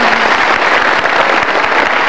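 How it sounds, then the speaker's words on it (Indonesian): Dense, steady applause from an audience, many hands clapping at once without pause for a couple of seconds. "Kita kasih tepuk tangan untuk Lia."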